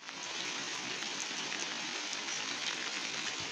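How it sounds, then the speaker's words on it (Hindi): Steady rain hisses down continuously, a soft dense patter of drops on surfaces with no voices. "क्योंकि लगी है बारिश।"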